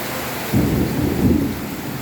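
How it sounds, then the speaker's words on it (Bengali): Thunder rumbles during a heavy rainstorm, with two deep rolling booms over a steady wash of pouring rain. "আকাশের ডাক শুনতে পারতেছি"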